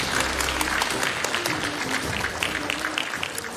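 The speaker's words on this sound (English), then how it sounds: "a big round of applause for our presidential candidates" Sustained applause from a crowd at a presidential debate, steady and loud throughout, with a voice faintly audible beneath the clapping.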